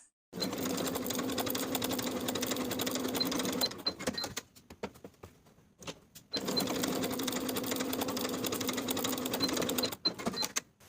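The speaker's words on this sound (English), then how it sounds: "Then sew with a 1/2 inch seam allowance." A sewing machine stitches the shoulder seams of a dress bodice, a close rapid whirring hum in two long bursts separated by a pause with small clicks and handling.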